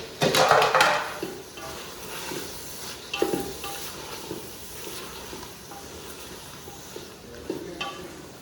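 Pumpkin with tomatoes and spices fries in a pan, a moderate sizzle broken by loud scraping stirs and utensil knocks, the strongest scrape at the start.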